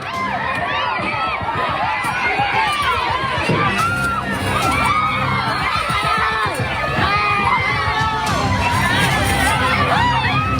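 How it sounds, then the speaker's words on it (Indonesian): A crowd of angry residents shouting in panic as they damage a car and drag its driver from the cabin: loud, dense, overlapping yelling and screams from many voices, continuous and close throughout. "Teriak kepanikan pecah saat warga yang emosi merusak dan menarik seorang pengemudi dari dalam kabin mobil"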